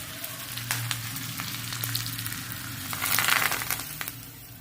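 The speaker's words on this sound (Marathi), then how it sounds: "आता आपण ही फोडणी आपल्या कांद्याच्या चटणीवर ओतूया." Hot oil tempering with asafoetida sizzles and crackles steadily, swelling louder for a moment as it is poured onto onion chutney, then settling into a softer fry; no one speaks.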